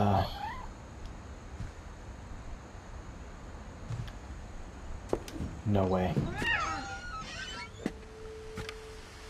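A cat meows a few times in short, rising calls amid the electronic soundscape of the game What Remains of Edith Finch, with a person briefly speaking over it.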